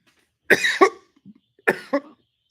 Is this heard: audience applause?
no